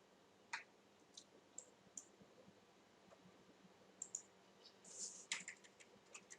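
Typing on a computer keyboard, including backspace and delete keys, gives sparse, light clicking taps in short irregular clusters, fairly close and quiet against a faint background hum, with no talking.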